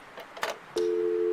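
A steady electronic telephone line tone sounds in a point-and-click adventure game, a continuous pure hum starting abruptly after a couple of brief clicks and rustles, and holding clearly at even volume.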